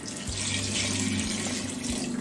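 Water pours steadily into a pot for basmati rice pulao with vegetables, a continuous close splashing stream filling the short moment without pause.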